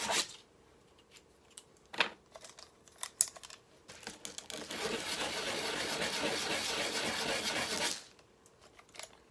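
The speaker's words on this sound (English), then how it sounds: "Once you make the cuts, rough piece of sandpaper." Rough sandpaper rubs back and forth on a small 1/6 action figure part, with a few scattered scrapes at first, then a sustained gritty stretch of rapid sanding before it stops.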